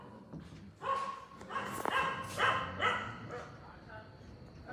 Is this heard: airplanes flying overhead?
no